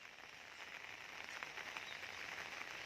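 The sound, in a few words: rain falling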